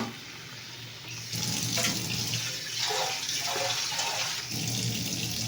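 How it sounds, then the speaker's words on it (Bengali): Boiled red lentil dal poured into a cooking pot gives a steady, close liquid rush with a wet splashing texture, running for several seconds and briefly easing midway, with no talking. "এবারে যে মুসুর ডালটা সেদ্ধ ছিল সেটা এখানে ঢেলে দিলাম"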